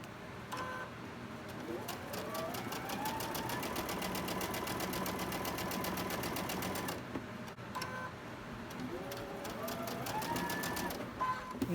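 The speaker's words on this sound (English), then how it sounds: "We're going to sew these together" Sewing machine running steadily for quilt block stitching, a continuous mechanical whir with rapid stitch rhythm that pauses briefly near seven seconds, then resumes until the end, close and fairly loud.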